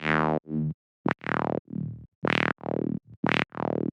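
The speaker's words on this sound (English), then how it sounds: "I added this acid bass. It is a simple saw wave with a filter and adds a lot of energy." A buzzy acid synth bass, a simple saw wave through a filter, plays short staccato notes in a bouncy rhythm, each one squelching as a resonant filter sweeps down.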